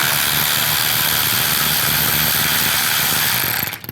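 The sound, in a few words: socket wrench removing 10mm mirror bolts on Buick LaCrosse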